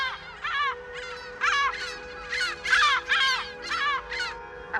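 Young gulls on Cabrera island calling in a run of about ten harsh, wavering, rising cries, fairly close, each burst short and nasal, with no voices.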